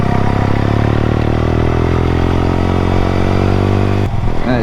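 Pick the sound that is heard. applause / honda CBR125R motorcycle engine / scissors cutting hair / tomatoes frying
honda CBR125R motorcycle engine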